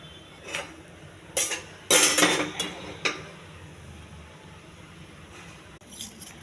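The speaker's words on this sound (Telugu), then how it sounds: "పెనం పెట్టుకోవాలండి" Metal cookware clanks in a home kitchen as a pan is set on the stove for frying beans and carrots: a few sharp knocks and one louder, longer rattle, then quieter scrapes.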